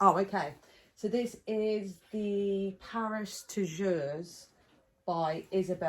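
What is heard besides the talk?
No distinct noise like a dog, phone or traffic.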